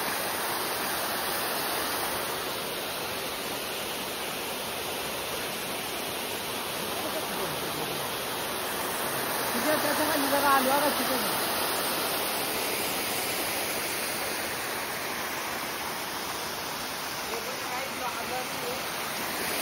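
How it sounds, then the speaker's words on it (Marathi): Hidden waterfall in village countryside, a steady broadband rush of falling water that holds evenly throughout, swelling briefly midway, with no talk over it. "फायनली मी पोचलो बघा कसं आमचं वॉटरफॉल"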